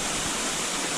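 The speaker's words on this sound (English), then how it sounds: "But this is the waterfall." Spruce Flats Falls roars in a dense, unbroken rush of falling water, loud and close, with no pauses or other sounds.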